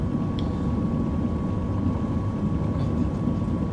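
A flight simulator airliner rolls out along the runway after landing at Moruya, with a steady broadband engine and wind roar and a constant tone underneath, and no talk.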